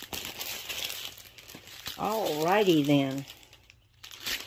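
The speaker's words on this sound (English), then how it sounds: "They put all these drills in these plastic bags and they make an awful noise when you open them." Plastic bags holding diamond-painting drills crinkle and crunch as they are torn open, close and loud in scattered bursts, while a person speaks briefly over the rustling.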